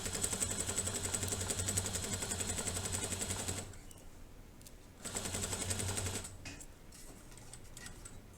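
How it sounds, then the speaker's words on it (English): A sewing machine stitches across the zipper teeth of a fabric pouch in rapid, even bursts of clatter. It runs for several seconds, pauses, then sews another short run, with quiet handling noise between the bursts. "I can sew over the zipper teeth"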